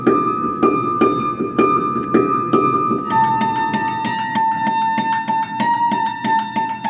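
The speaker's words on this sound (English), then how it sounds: "I played the naked strings with mallets and drumsticks." Bare strings of an upright piano, its action removed, struck with mallets and drumsticks: slow single metallic strikes at first, then a quicker steady run of hits with sustained ringing tones, close and loud.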